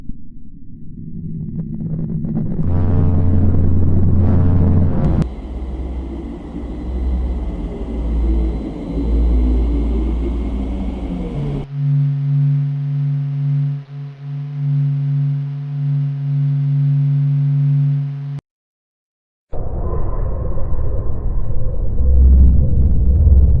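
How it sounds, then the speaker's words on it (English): NASA space recordings of planet sounds: a series of eerie segments, first deep rumbling drones, then steady humming tones, a brief silence, then more rumbling, all loud and unbroken by voices. "Interesting planet sounds from space recorded by NASA."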